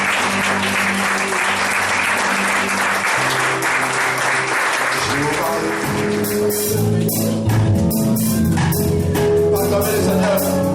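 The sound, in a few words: congregation cheering and applauding loudly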